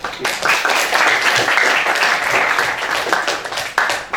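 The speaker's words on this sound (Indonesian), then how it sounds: "Tepuk tangan untuk" A classroom audience claps for a student teacher's lesson, a full and fairly loud round of applause that starts abruptly, stays dense and even, then tapers near the end.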